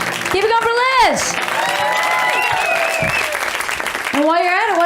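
Comedy club audience applauding and cheering between comics, a steady wash of clapping from the crowd under a host's loud voice speaking over it.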